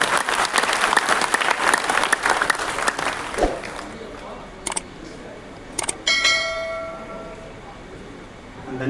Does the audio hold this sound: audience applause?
yes